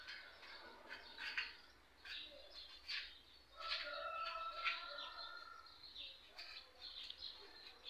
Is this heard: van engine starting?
no